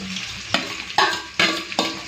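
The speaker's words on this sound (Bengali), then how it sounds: "আলুও ভাজা হবে মশলাও কষা হয়ে যাবে" Potatoes with spice paste fry and sizzle close by, with four distinct scraping stirs landing at a steady pace over the crackle.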